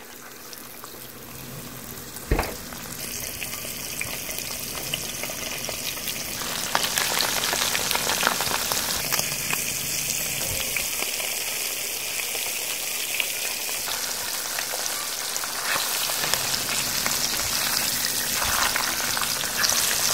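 Flour-dusted fish fillets fry in a pan, giving a steady, close hiss of sizzling oil with crackling spatters, a sharp pop early on, and the sizzle growing denser as more pieces go in.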